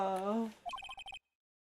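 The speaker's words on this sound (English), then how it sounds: "What kind of a ringtone is that?" A person speaks briefly, then an Ace Attorney phone ringtone sounds as a quick run of bright electronic bell pulses, about eight rapid beeps that stop abruptly and leave silence.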